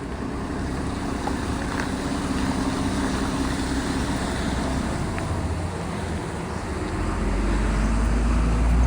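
A loaded truck carrying liquor cases rolls toward the unloading point, with steady low engine drone and road rumble that swells louder near the end.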